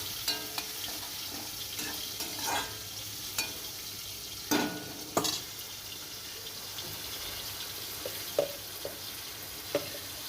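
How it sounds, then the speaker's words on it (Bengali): Green chillies sautéed with a splash of water in a Bengali home kitchen, giving a steady soft sizzle with intermittent stirring scrapes and a few sharper clinks, fairly close and without voices. "সামান্য জল দিয়ে দিলাম এই কারণে যাতে ভালো করে কষানো যায়"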